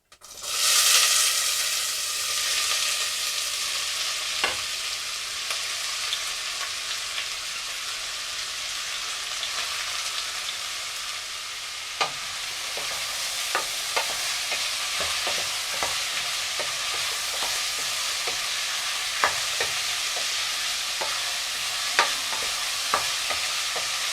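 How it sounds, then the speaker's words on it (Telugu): Chopped onions fry and sizzle in a hot pan for an egg curry, a dense steady crackle with occasional sharp clicks of a spoon stirring, close and without talk. "అందులో ఇప్పుడు ఆనియన్స్ వేస్తున్నా."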